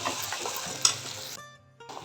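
Masala paste sizzles and fries in oil in a pan for a fenugreek-leaf and pea cream gravy, with close stirring scrapes; the sizzle drops away briefly near the end, then flares up again.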